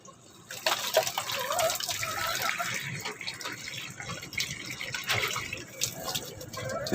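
Water poured from a dipper into a container for pigeons, a close splashing and trickling stream that swells and eases over several seconds, with faint bird and background noise.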